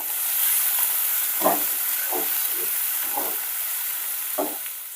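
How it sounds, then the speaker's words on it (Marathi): Chopped tomato and onion sautéing in a pan for chicken sukka: a steady close sizzle and hiss with a few soft scraping stirs, no voices. "टोमॅटो आणि कांदा चांगला सॉफ्ट होईपर्यंत आपल्याला परतून घ्यायचा आहे"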